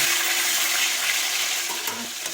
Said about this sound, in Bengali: একটু নাড়াচাড়ি করে দিই টমেটো দেওয়ার পর